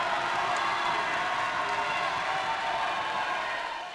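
Home crowd at a Leominster girls high school basketball game against Fitchburg roars in sustained, loud cheering and shouting that fills the whole stretch without a break, with no clear voice standing out.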